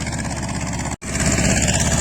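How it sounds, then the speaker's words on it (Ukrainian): A tractor working in a cornfield, cutting passes between rows, its engine giving a loud, steady, throbbing drone that cuts off for an instant in the middle before carrying on. "Отак хазяїн трактором перебиває, робить просіки"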